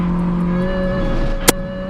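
Budget Mini Cooper race car lapping Oulton Park, its engine holding a steady droning note close by, with a brief sharp click or knock near the end.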